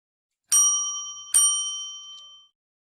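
Two bright bell dings ring out alone in a quiet room, the second struck just under a second after the first, each with a long clear ringing tail.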